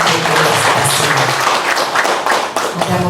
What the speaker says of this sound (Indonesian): Kita beri tepuk tangan untuk Universitas Jember.